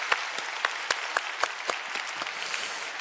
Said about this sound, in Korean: 다시 한번 격려의 박수 해드리도록 하겠습니다.